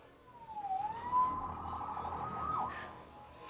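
A police siren wails in the Spider-Man Remastered video game, one rising-and-falling tone that sweeps up and settles into a fast warbling yelp, fairly close and steady for several seconds with no talk over it.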